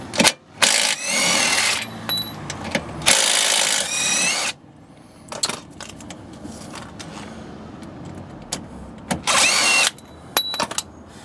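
Power tool with an E12 Torx socket removing the front anti-roll bar bushes on a 2004 Mercedes CLK 500, heard as three loud bursts of whirring with quieter clanks and handling noise in the gaps.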